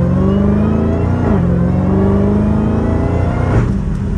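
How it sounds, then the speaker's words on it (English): A Dodge Hellcat Redeye's supercharged engine roars loudly as it accelerates, its pitch climbing through a gear and then rising again, with a dense, continuous rumble heard from inside the car. "I hope you guys are enjoying the supercharger sound."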